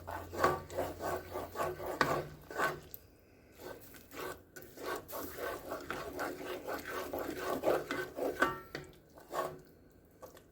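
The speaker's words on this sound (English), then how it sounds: "go ahead and get that a good stir. Just to mix it in with what's there" A spoon scrapes and rubs steadily through creamy chicken and mushrooms in a pan, producing soft, rhythmic scraping strokes at close range, quiet and continuous with no speech.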